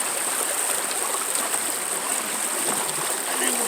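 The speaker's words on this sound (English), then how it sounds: "Let the sluice run for a little bit." Water rushes steadily through a sluice box outdoors, a constant broadband hiss and gurgle that holds at even loudness throughout with no voices.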